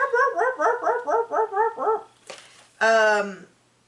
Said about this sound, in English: her little dog, her little wiener dog